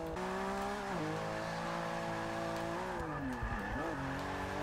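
A Ferrari drift car holds a loud, sustained engine roar with shifting pitch, dipping and rising as the car slides, while a faint tire squeal runs underneath throughout.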